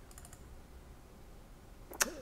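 Fingers typing on a computer keyboard during CNC work, a quick burst of soft keystrokes at the start, then a pause and one sharp, louder key click near the end.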